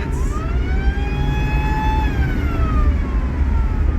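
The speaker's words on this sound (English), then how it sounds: "It's got to be the siren." A police squad car siren wails in a slow rising and falling sweep, loud and close over a heavy low engine rumble, with no talking.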